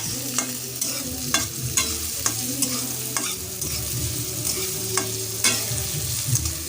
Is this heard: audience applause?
no